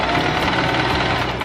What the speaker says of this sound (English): And just sew it over here.